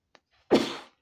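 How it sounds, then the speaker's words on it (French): A single short sneeze from a woman, one abrupt burst lasting under half a second, preceded by a faint click, close and fairly quiet. "Excusez-moi, je vais éternuer"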